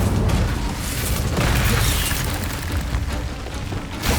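A fire spell cast in the Hogwarts Legacy game, a loud, dense whooshing burst with booming low rumble that roars steadily for about four seconds amid the din of combat.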